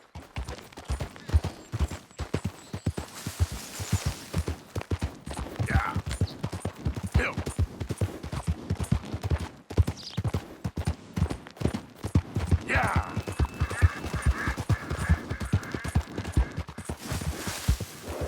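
Steady clip-clop of horse hooves at a walking pace in Red Dead Redemption 2, close and continuous, with a few brief voices and faint game ambience layered over it.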